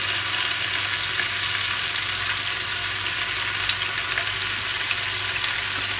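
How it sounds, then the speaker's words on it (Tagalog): Steady, loud sizzling of tempura frying in hot oil with a little butter, a dense continuous crackle with no voices. "ito po yung pangalawang paraan ng pagpiprito po ng tempura."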